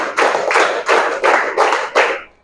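A school class claps in a rhythmic teacher-led pattern, five or six close, loud bursts of many hands in a steady beat, ending with a quick fade.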